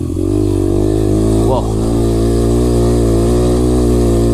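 A dirt bike engine revs hard and steadily as it climbs a forest trail hill, loud and close throughout.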